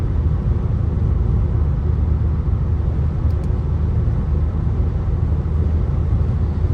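Steady, loud engine and road rumble inside a 2011 Ford Kuga 2.0 diesel with manual gearbox, cruising at a constant 120 km/h on a highway, an even drone without speech.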